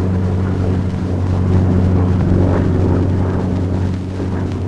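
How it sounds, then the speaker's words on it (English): A Curtiss P-40 Warhawk's engine runs at full throttle during its takeoff run down the runway, a loud, steady, unbroken drone with a deep rumble and no talking. "As the plane starts down the runway, open the throttle with a positive, steady motion."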